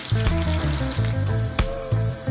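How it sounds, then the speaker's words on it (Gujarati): Three cut potatoes frying in oil for an aloo matar dish, a loud continuous sizzle close by over a low steady hum, with a few sharp clicks and pops breaking through, and no speech. "ત્રણ બટેટા આપણે કાપી લીધા છે હવે એને આપણે તેલમાં તળી લઈશું"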